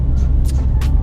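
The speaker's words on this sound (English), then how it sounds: "A large truck coming." A large truck rumbles past a BMW M4 on the road, a heavy low engine drone with a couple of brief hissing bursts, loud and close.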